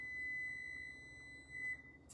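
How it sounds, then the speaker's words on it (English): A kitchen timer set for bread gives a sustained high electronic beep that stops, then chirps briefly again, close and clear in a quiet room. "Hold on, let me turn off that timer."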